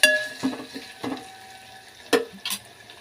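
Small chopped tomatoes stirred in a pan for tomato rice, with a few scraping spoon strokes against the metal over a soft sizzle, loud at moments and quieter between.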